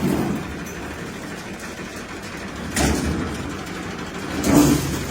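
A tractor-driven maize sheller running in a Punjab field, a continuous mid-pitched engine drone with two brief surges in load.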